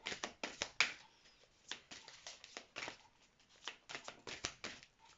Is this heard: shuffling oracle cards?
yes